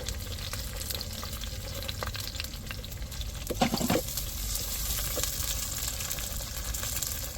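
Small onions and slit green chillies fry in a pan with a steady close crackling sizzle, broken by occasional spoon stirs and one louder scrape midway, with no voices.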